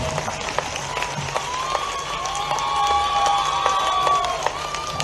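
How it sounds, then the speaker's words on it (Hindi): Crowd applause at a mass wedding ceremony in Indore, a broad steady clapping wash sustained for several seconds over a faint background of voices. "अभिनंदन का आप जोर से ताली बजाओ।"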